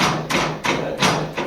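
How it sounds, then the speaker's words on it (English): A railing picket on an ornamental railing is tapped into the slot of the rail with four evenly spaced knocks, each a sharp, close thud followed by a brief ringing decay. "you're just going to bang this over, tap it over."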